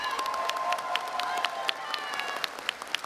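Graduation audience at a university commencement breaking into applause and cheering, a dense crowd roar with sharp individual claps standing out and a few whoops on top.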